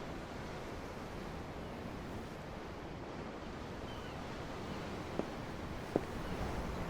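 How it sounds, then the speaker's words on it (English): Ocean waves and surf wash steadily in the Tales of Arise video game, a constant broad roar with light wind and two brief faint clicks near the end. "I'm looking at the ocean. The ocean? Yeah. The waves."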